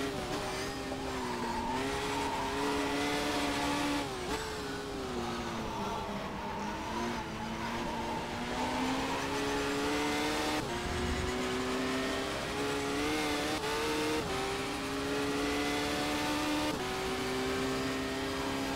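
Race car in the Race 07 racing game lapping a track: a loud, steady engine drone with rising and falling pitch through gear changes, plus occasional tire noise, heard continuously and up close with no talking.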